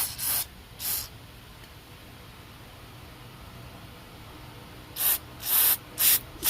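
Short bursts of spray blasted through the stem of a Coleman 200A black band lantern during refurbishing: two quick hisses, a long quiet gap, then four louder sharp bursts close by.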